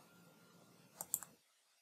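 Computer mouse clicks while using the i2 Notebook web client, a quick cluster of three faint, close clicks over a quiet background hum, with no talking.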